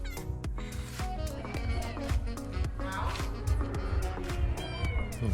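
Several cats meow repeatedly at close range during a road trip stop in Bulgaria, with a voice talking over them.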